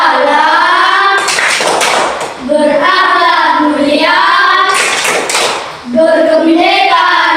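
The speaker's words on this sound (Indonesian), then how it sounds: "Ibu minta satu orang pimpin kita untuk tepuk profil pelajar Pancasila" A classroom of students claps a rhythmic pattern, leading the Pancasila student profile chant, with bursts of clapping between loud sung-out chanting voices.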